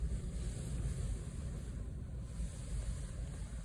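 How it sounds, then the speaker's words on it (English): Wind gusts outside a car at Braehead, a steady, rough roar that buffets the microphone with low rumbling and swells slightly in strength throughout, with no voices. "Look at that wind."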